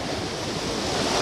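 Rough ocean water surges and breaks against rocks in a continuous, loud rushing roar, close and alone, with some wind buffeting the microphone.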